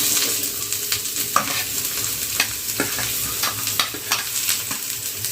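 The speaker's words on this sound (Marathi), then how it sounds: "यालाही चांगलं आपण कलर येईपर्यंत याला चांगलं तेलामध्ये भाजून घ्यायचं आहे म्हणजे फ्राय करून घ्यायचं आहे" Long-sliced onions frying in hot oil, a steady close sizzle with frequent sharp crackles and pops scattered throughout, no talking.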